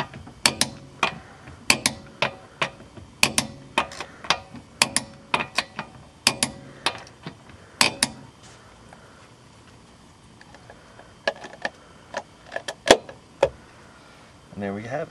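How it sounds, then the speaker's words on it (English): A torque wrench tightens the wheel lug nuts on a Chevrolet Trailblazer to 103 foot-pounds, producing a long series of sharp, regularly spaced ratcheting clicks in quick runs, with short pauses between groups. "I like to use a torque wrench for the peace of mind that I know that I've tightened the wheel lugs up properly."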